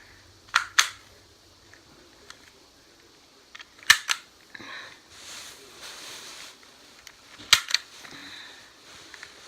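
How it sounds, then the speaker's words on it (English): Plastic parts of an airsoft gun click and snap together as its barrel is fitted back on, three pairs of sharp close clicks spaced a few seconds apart with faint handling rustle between. "And then you want to put your barrel back on."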